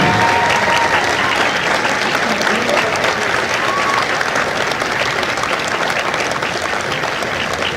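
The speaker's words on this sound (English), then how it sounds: "a round of applause" A large crowd applauds steadily and loudly for several seconds at a Marine Corps recruit graduation ceremony in San Diego, a dense wash of clapping that holds from start to finish.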